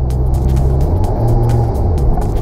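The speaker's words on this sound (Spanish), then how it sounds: "Ojo, porque si ustedes ya han metido el carro, se acelera en falso." A car engine revs freely with the clutch pressed, heard from inside the car as a loud, low, steady drone that swells slightly in the middle, with no talking.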